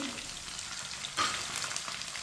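Finely chopped tomatoes and green chillies fry in a pan with browned garlic, giving a steady close sizzle broken by a brief scrape of a spoon stirring them, with no talking.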